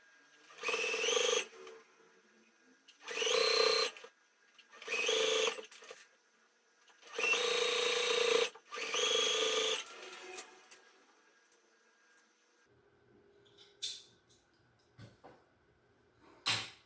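A sewing machine stitching a fabric strap runs in five short bursts of rapid whirring, each a second or two long with brief pauses between, followed by quieter clicks and handling sounds.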